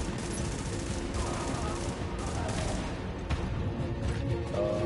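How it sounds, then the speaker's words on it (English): Grenade blast in The Division amid ongoing gunfire, a dense mix of rapid shots and booming impacts at moderate loudness, with a sharp crash standing out near the middle. "That's an outrageous grenade"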